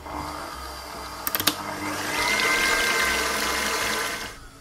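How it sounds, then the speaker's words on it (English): A hand mixer whips thickened cream in a bowl, starting with a few quick clicks and then settling into a steady, rising whirr that stays close and fairly loud before it cuts off near the end, with no talking. "using a hand mixer or a stand mixer, we're going to whip this up until soft peaks start to form"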